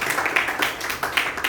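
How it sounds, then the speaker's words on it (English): Applause from an audience at a leadership programme meeting, dense continuous clapping at moderate loudness with no voices over it. "So big round of applause once again to all of you"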